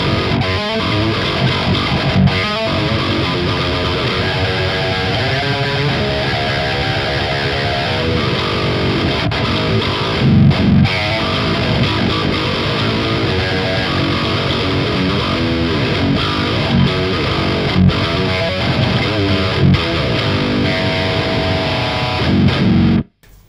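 Heavily distorted low-tuned chords on a Chapman ML-1 Pro Modern 28-inch baritone electric guitar ring out continuously, strummed loud and sustained, ending abruptly.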